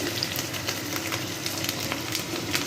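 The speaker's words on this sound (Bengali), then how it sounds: "আবার ভালো করে কষিয়ে নেব।" Spice paste of ground nuts, nutmeg, mace and poppy seeds with a splash of milk stir-frying for rohu fish korma, a soft steady sizzle with light scraping stirs, close and continuous.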